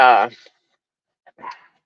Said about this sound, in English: She's barking at these dogs over here.